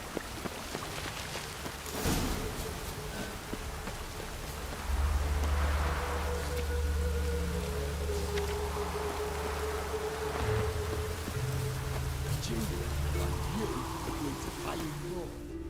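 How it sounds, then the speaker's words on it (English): Soft, steady rainfall in The Witcher 3 video game patters in the background with low rumbling underneath and a brief sharp crack early on, no voices present. "Witches have conjured rain."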